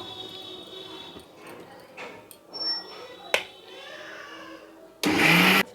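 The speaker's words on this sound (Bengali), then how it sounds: "এবার দেখো মিক্সার মেশিনে এটাকে ভালো করে পিষে নেব" A mixer grinder grinding sesame seeds roars to life in a loud, short burst at the end, after a stretch of clicks, taps and handling noises from the machine being set up.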